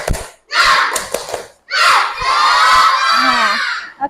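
A classroom of schoolchildren shout a spirit clap chant in unison, with loud group bursts of voices and rhythmic claps, a short break, then a longer sustained cheer from the whole group.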